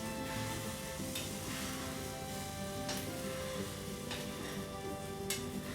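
Eggs frying in a pot crackle and sizzle steadily for several seconds, with a few sharper pops breaking through the dense, close hiss.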